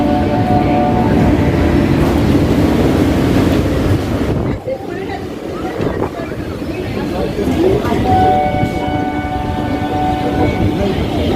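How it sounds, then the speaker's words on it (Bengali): A commuter train pulls out of New Alipur station on the Sealdah to BBD Bag line, its steady loud rumble and wind roar filling the recording throughout, with a brief dip midway. "তো আমাদের ট্রেন এখন নিউ আলিপুর থেকে ছেড়ে দিল"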